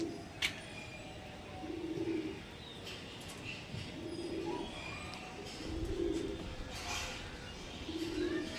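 A pair of Lambadi breed pigeons coo in repeated low, rolling phrases about every two seconds, close by over a constant noisy background hum.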